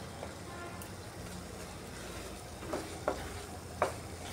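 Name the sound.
stirring dal with garam masala in a pan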